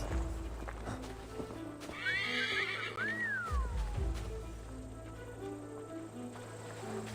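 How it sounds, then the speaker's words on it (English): A horse in the video game Assassin's Creed Valhalla lets out a rising, wavering whinny over steady game ambience, followed by a few soft hoof clops; no speech accompanies it. "Stay here, horse."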